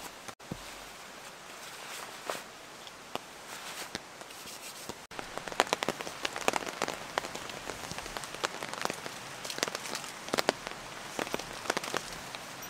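Steady rain patters on a poncho-style camping shelter during a solo overnight camp, a dense, close hiss of drops with sharper individual taps and occasional rustles of movement nearby, no talking.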